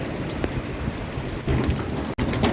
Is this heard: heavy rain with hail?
yes